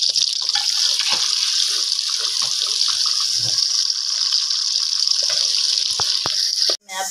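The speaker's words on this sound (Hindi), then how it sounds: "फिर मैं इसको लगाऊंगी अकेला प्याज का तुड़का" Chopped onion frying in two spoons of hot ghee for a sarson ka saag tempering, a steady close sizzling hiss that runs without a break and cuts off briefly near the end.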